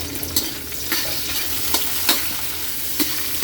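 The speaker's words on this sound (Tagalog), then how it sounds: "ilagay na natin ang ating mga sangkap, sibuyas, kamatis. Pagsamahin na natin kay bawang" Onions, tomatoes and garlic sautéing in a pan as the base for pork sinigang, a steady close sizzle with scraping stir strokes recurring roughly every second.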